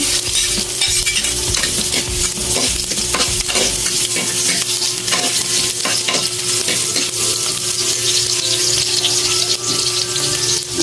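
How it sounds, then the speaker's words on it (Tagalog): Garlic sizzles steadily in a hot pan with onions while being stir-fried for a bean sprout and tofu dish, with frequent close stirring scrapes and no talking. "Isunod na rin natin yung ating bawang."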